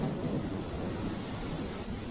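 Steady rain pours with a low, continuous rumble of thunder underneath, constant throughout and moderately loud.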